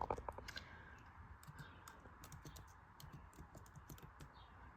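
Clicky computer-keyboard keys tapped one-handed in slow, uneven bursts of single keystrokes, close but quiet, with no voices.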